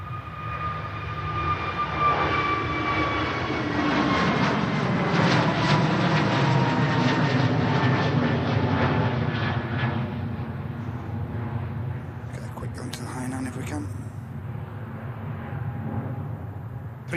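A Hainan Airlines jet airliner taxis at Manchester Airport. Its engines give a sustained, fairly close roar and whine that slowly fades over several seconds, with no voices heard.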